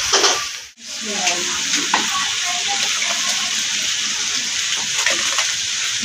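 Onions browning in a pan, a steady loud sizzle with scraping stirring strokes throughout, briefly cut off near the start, then continuing close up without pause.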